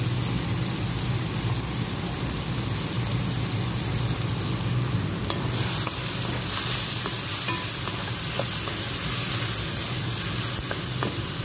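Tomatoes with black pepper, cumin and other spices sauté in a hot pan, a loud, continuous sizzle with occasional stirring clicks and scrapes near the microphone.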